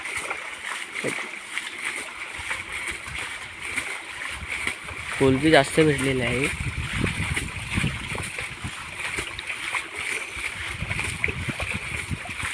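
Water splashes and sloshes as a pond is bailed out for eel fishing in summertime Konkan, uneven splatters and pours under someone talking nearby throughout.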